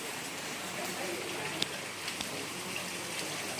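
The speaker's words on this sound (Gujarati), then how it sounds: "વરસાદ ચાલુ જ છે" Steady rain falls continuously as an even, close hiss with a few faint drips and taps standing out now and then, with no other sounds over it.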